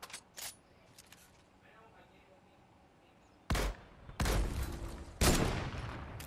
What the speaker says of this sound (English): how are my shots not hitting you?